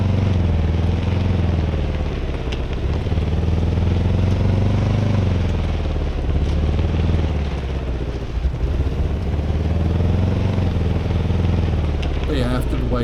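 Vehicle driving by in the game SCUM, a steady engine drone with a low rumble that rises and falls gently throughout, loud and continuous, with a voice talking over it.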